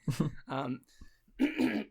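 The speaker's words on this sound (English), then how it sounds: "Clearing my throat." A person clears their throat with a few short, rough rasps, with brief vocal sounds between them, close to the listener.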